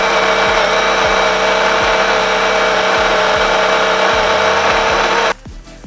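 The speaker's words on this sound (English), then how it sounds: "this grinder is so much louder. It is a loud, loud grinder" Baratza Sette 270 coffee grinder grinding 20 grams of beans: a loud, steady high-pitched motor whine with a rhythmic low ticking underneath, cutting off abruptly near the end.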